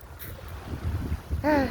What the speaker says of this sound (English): just taking the ambiance of the crashing waves.